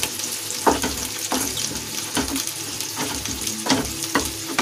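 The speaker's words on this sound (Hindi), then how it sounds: "और इसे अच्छे से मिक्स करूंगी।" Onions frying with turmeric and red chilli powder for kadai paneer, a spoon stirring them around the kadai in repeated scraping strokes over a continuous close sizzle.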